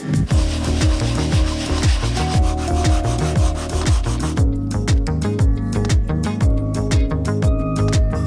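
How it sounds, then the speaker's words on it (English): A wooden keepsake box has its edges hand-sanded with 240 grit sandpaper, producing steady repeated rubbing strokes close by that turn into quicker, lighter strokes toward the end. No one talks. "we'll just go around and soften some of these edges, and I'm just doing this with the 240 grit"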